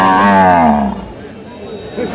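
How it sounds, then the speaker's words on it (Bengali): A deshi-breed dairy cow at a cattle market in Kaharol, Dinajpur, lets out one loud, close moo lasting about a second, followed by quieter market background noise. "আমরা দেখছিলাম এখানে একটি গরুকে"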